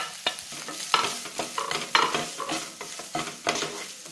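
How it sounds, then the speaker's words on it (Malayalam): Grated coconut and urad dal roasting in a pan are stirred in quick, regular scraping strokes about twice a second over a faint dry sizzle, close and clear with no talking. "ഇനി തേങ്ങയും കൂടെ ഇതിൻ്റെ കൂടെ ചേർത്ത് 2-3 മിനിറ്റ് നന്നായിട്ട് മൂപ്പിച്ചെടുക്കാം."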